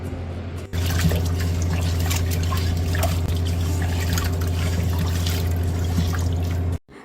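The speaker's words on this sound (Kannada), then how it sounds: "ಗೈಸ್, ಕಲ್ಲುಪ್ಪಲ್ಲಿ ಚೆನ್ನಾಗಿ ವಾಶ್ ಮಾಡ್ಕೊಳ್ಳಿ ಇದನ್ನು" Prawns being rinsed by hand in water with rock salt, a steady close trickle and slosh of running water that continues almost without pause, with no talking.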